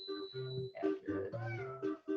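A house cat meows repeatedly for attention, several drawn-out meows close by, loud over a steady high electronic tone, with a voice speaking faintly in the background.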